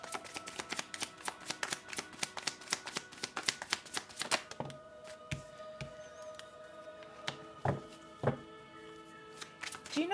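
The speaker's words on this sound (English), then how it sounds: "You've seen me shuffle the cards" A deck of cards is shuffled, with rapid riffling clicks at first, then slower scattered snaps and taps as the cards are handled and squared, close and alone.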